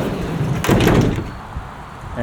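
The sliding side door of a 2024 Mercedes-Benz eSprinter electric van rolls and thuds shut in one close, loud motion, with a short rattle trailing off afterward.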